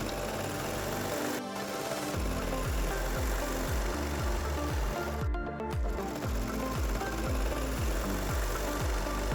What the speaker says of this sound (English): We then sew them.